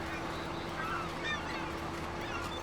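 Geese honking as a flock approaches in the Farming Simulator 25 video game, a steady chorus of overlapping honks over constant farm ambience, fairly close and continuous throughout.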